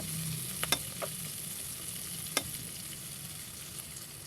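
Onion and ginger sautéing in a pan, a quiet steady sizzle with a few sharp scraping stirs of a utensil against the pan, close and alone with no talking.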